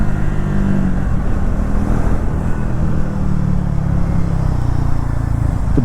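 Triumph Thruxton 400 motorcycle revving around 7000 rpm on a city ride, a loud, continuous engine drone with steady buzzing harmonics under heavy wind rumble, heard from the rider's position.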